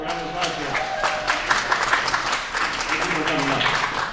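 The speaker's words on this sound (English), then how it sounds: "So give yourself a round of applause for it." An audience at an academic league varsity match applauds, steady clapping filling the room with voices talking over it.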